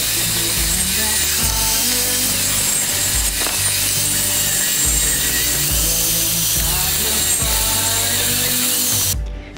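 Boards of 1/2 by 1.5 inch wood being cut to length with a power saw for a goat hay feeder, a loud steady whine with repeated cutting passes that stops abruptly at the end.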